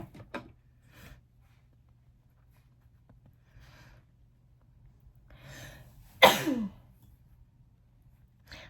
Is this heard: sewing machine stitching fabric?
no